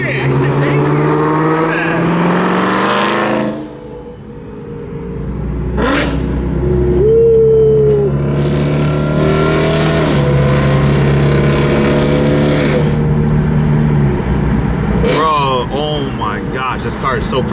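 A car's engine and exhaust rev hard and roar loudly nearby, rising and falling through several bursts, with people talking over it.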